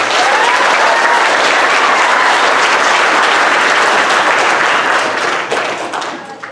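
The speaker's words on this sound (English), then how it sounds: "So give him a round of applause." Audience clapping loudly at a middle school winter program, a dense, even roar of applause that stays strong for several seconds before thinning and fading toward the end.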